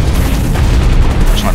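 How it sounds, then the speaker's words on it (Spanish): Gunfire striking a player's mech from behind in the online shooter Hawken, a dense, loud rumbling barrage of booms and bursts running continuously, with someone talking over it. "Ya me están disparando por detrás."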